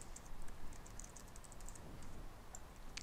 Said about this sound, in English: that I started to type in this